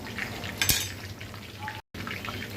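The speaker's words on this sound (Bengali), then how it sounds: "আস্তে আস্তে করে ভেজে নিতে হবে, তাড়াহুড়া করলে হবে না" A whole chicken fries slowly in a pan with a steady, close sizzle, broken by one sharp metallic clink of a utensil partway through.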